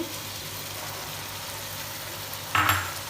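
Blended tomato puree poured onto mutton frying in a pan for dahi gosht: after a quiet, faintly humming stretch, a sudden sharp hiss of sizzling erupts near the end and quickly settles.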